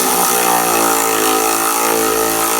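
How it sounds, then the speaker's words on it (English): New Milwaukee powered ratchet breaking bolts loose on a truck cab project, a loud continuous motor whine with a steady pitch and no talk. "Now I'm using the ratchet itself to break it."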